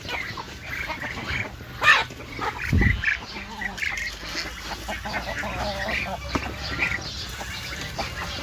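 Farmyard ducks quack in scattered, nasal bursts at close range, with one louder thump and some background rustling and faint voices mixed in.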